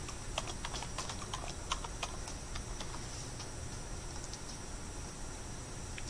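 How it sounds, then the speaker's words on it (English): Fingers tap rapidly on a computer keyboard, a steady run of light, close clicks over a faint background hum with no speech. "Type in your title."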